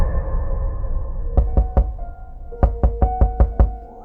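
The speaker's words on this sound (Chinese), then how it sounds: "清早我被一阵敲门声吵醒" Knocking on a door in two bursts: three sharp raps, a pause, then six quicker raps, over a faint steady hum.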